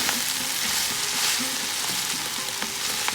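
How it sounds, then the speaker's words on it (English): Garlic, chilies, carrot, celery and onion sizzle loudly in a hot pan for minestrone as they are folded through, a dense steady fry with occasional soft scrapes of the utensil, close and without talk. "I'll gently kind of fold that in with our chilies, our carrot, celery, onion, the garlic"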